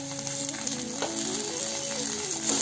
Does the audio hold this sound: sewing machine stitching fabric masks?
no